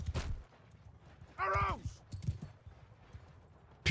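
Horse hooves clip-clop briefly in the medieval video game Mount & Blade II: Bannerlord, with a whinny-like tonal cry rising in the middle and a few thuds around it.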